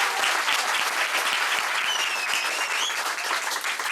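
A small cabaret improv audience claps loudly and densely as an applause-meter vote, a continuous close burst of hand-clapping with no talk.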